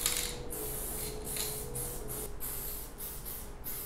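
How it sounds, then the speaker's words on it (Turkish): An aerosol spray paint can hissing against a wall in a steady, close, continuous spray with brief pauses between bursts; no talking. "Benimle sprey boyayı aldı yıllar sonra."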